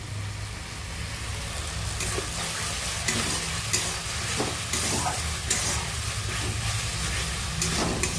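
Egg curry cooking in a pan in a home kitchen, with a steady loud sizzle and frying hiss throughout and occasional scraping stir sounds.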